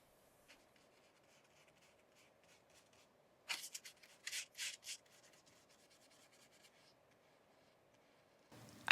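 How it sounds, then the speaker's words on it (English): Paintbrush bristles scratching across a painting surface while paint is worked around, heard as quiet, close, dry rubbing strokes in short bursts with long near-silent gaps. "the sounds of the bristle scratching against the surface and the paint moving around"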